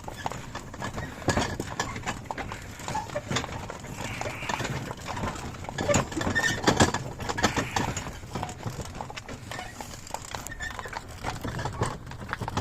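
Heavy draft work horses at a village horse sale move along with a steady stream of hoof clip-clops under continuous background noise, with a voice speaking at times.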